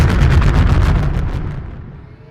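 A single heavy bomb blast roars loud and close, a dense rumbling burst that rolls on briefly before fading away into quiet.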